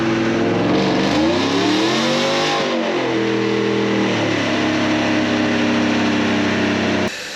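Tuned 2020 truck engine revving hard through a short pull, the pitch climbing and dipping as it shifts, loud and close throughout before cutting off near the end.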